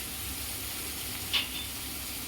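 Spices, ginger-garlic paste, coriander powder, Kashmiri red chilli and sambar masala fry with tomato in a pan, giving a faint, steady sizzle with one brief scrape or clink partway through.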